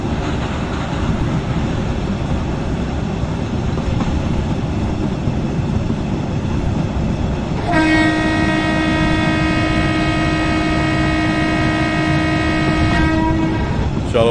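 A train runs steadily in the Indian Train Simulator game on the Kalka Mail night journey, with a continuous rumbling rail noise throughout and a long sustained horn joining partway through.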